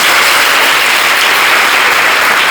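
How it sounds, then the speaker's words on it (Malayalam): Dense, steady applause from a congregation at a community worship gathering fills the space, loud and continuous throughout with no voices above it. "ഇത് അനുഭവമുള്ളവരൊന്ന് കൈയടിച്ചു കേട്ടാ."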